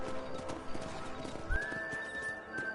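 Horse in the Red Dead Redemption video game: close clip-clopping hooves with a high, drawn-out neigh rising midway and holding to the end, over a low ambient bed.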